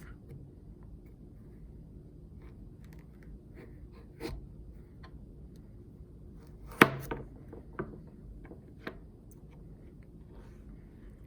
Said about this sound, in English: I'm going to cut this carrot in half